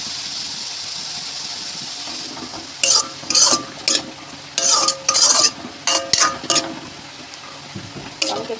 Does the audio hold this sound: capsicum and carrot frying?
yes